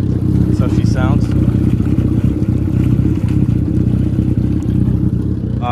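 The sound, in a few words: cheap used jet ski engine running at boat ramp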